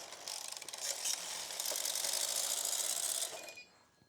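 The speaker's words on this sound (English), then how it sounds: "we knit 1 row" A knitting machine carriage is pushed across the needle bed to knit one row, giving a quiet, close, continuous mechanical rattling whir that runs for about three seconds and then stops.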